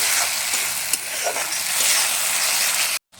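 Spice paste thinned with its washing water is stir-fried in a pan for a village-style river prawn curry, a loud, continuous sizzle with scraping stirs. It cuts off abruptly near the end.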